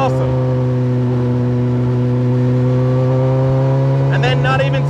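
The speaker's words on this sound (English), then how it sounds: "you've got this big ZX14 engine sitting right behind you, just screaming its head off." A Campagna T-Rex three-wheeler powered by a Kawasaki ZX14 motorcycle engine holds a loud, steady high-revving drone close by, with a rising note near the end.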